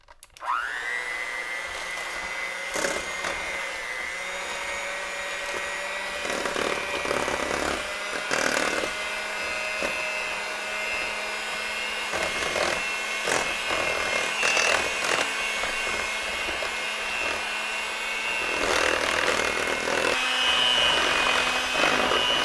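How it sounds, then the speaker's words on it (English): An electric hand mixer whirring steadily for over twenty seconds through keto pumpkin pie filling in a bowl, with faint knocks and scrapes against the sides and no talking. "now what we're going to do is just mix this up here."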